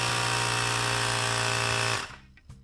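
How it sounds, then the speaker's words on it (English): An electric tire pump inflates the tire of a Razor Power Core E100 electric scooter to 36 psi, a steady loud motorized buzz that runs close up and then cuts off near the end. "Grab your tire pump, attach the end of the pump to the valve stem, and inflate to 36 psi."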